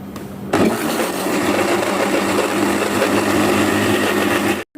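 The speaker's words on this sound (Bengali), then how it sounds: "কিউব করে কেটে দিয়েছি ব্লেন্ড করে নিয়েছি এখন আর একটু ব্লেন্ড করে ময়দার সঙ্গে মেশাবো" A blender whirs loudly and continuously while it purees cubed mango for a pitha batter, starting abruptly after a brief quiet moment and cutting off just before the end.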